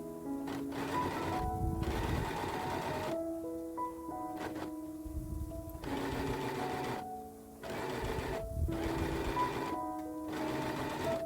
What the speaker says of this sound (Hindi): मोहरी के लिए मैं इस तरह से फोल्ड करते हुए बिल्कुल स्ट्रेट में सिलाई लगा लूँगी।